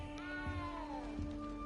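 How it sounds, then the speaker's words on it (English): A small cat in the Hogwarts video game meows faintly amid steady game music and ambience, with a couple of brief soft cries across a short stretch. "You don't need to be frightened, little cat."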